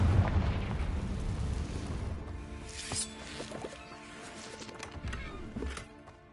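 The Confringo fire spell in Hogwarts Legacy on PS5 bursts with a heavy booming explosion, followed by crackling magical impacts and scattered pops that fade over several seconds.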